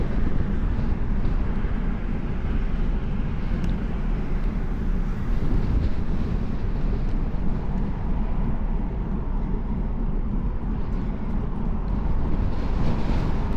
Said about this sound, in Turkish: Rüzgara bak rüzgara.